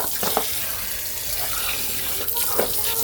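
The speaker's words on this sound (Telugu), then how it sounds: "మనం ట్యాప్ దగ్గర జస్ట్ ఫోర్స్గా కనుక మన ట్యాప్ వచ్చినట్లయితే" Water streams from a tap with a steady splashing hiss during the cleaning of a Samsung washing machine, joined by a few brief louder splashes.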